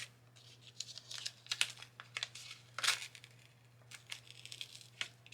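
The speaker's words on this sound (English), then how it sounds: "we're gonna just peel off this" Paper backing peeled off a craft piece during card making, faint crinkly tearing and rustling with a few sharper crackles, close and quiet, no talk.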